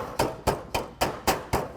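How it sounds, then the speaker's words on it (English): Six sharp hammer taps on a gutter outlet in a steady, even rhythm, close by, each a quick metallic knock with a short ring. "it's a good idea to come in here with a hammer"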